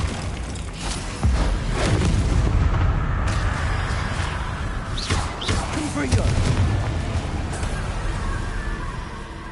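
Confringo fire-blast spell cast repeatedly in Hogwarts Legacy combat, heavy booming explosive bursts with a dense rumbling low end over a continuous battle din, loud and near, with voices in the mix.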